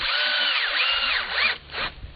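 A power driver sinks Tek screws into the surface of a log slab at a sawmill, a close, loud whirring burst with rising and falling pitch, then a brief pause and a second short whir.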